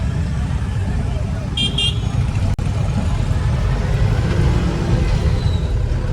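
Constant rumble of busy road traffic at Naregaon junction with engines idling and passing, and a quick double horn toot early on.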